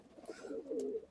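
A single pigeon from an old bloodline gives one soft, short, rolling coo, faint and close in a quiet setting.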